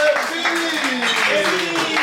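Audience applause and clapping at a French-Quebec slam poetry tournament, a steady dense wash of hands with crowd voices and chatter mixed throughout.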